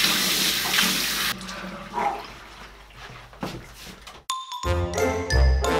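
Tap water runs into a bathroom sink while a face is washed, loud and splashy at first, then gurgling and dripping, with a few clinks and a brief cut near the end.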